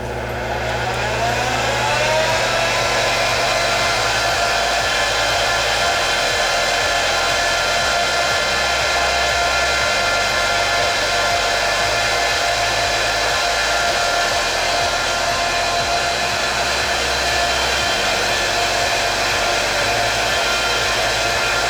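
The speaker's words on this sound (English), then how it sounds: "this is a 12 bobbin spinner, so I have 12 bobbins set up, and all of the twisted fiber is coming down" A 12-bobbin yarn spinning machine twisting fiber into yarn runs continuously with a loud, steady whirring drone and a repeating low mechanical pulse throughout.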